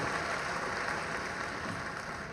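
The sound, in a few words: crowd applauding to welcome the Chief Minister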